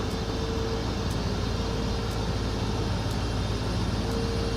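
A Scania R580 15.6-litre V8 truck engine runs steadily on a dynamometer, a constant loud drone with a low engine hum and broadband roar held evenly throughout, no voices.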